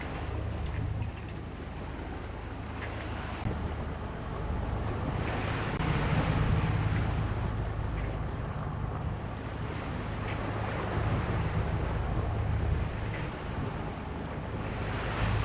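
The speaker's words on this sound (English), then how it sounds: "This is chop created from the tide coming in and the wind waves from way back up inside the Straits of Juan de Fuca" Choppy ocean water from an incoming tide meeting wind waves in the Strait of Juan de Fuca, heard from a sailboat off Port Angeles: a steady, broad rushing wash with gentle swells in loudness and no talk.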